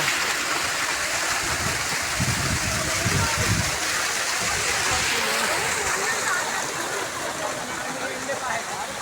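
Flowing stream water along a rural path, a dense continuous rushing and splashing close by, steady throughout with a brief louder gush early on.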